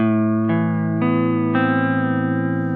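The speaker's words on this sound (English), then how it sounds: "Let's bring the depth even higher so we get a really warbly effect." A sustained electric guitar chord through a Chase Bliss Audio Warped Vinyl pedal with high depth, heavy wobbling, pitch-warping modulation, restruck four times in steady succession, loud and up close.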